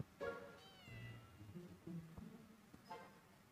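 A cat meows faintly a few times as a sound effect in the puzzle video game Case Hunter, with soft game noises in the background.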